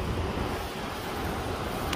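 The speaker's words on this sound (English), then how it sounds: "Waves." Ocean waves at Punta Hermosa, Peru, a surfing beach, wash in a continuous broad roar, steady and fairly close, with wind mixed in and no talking.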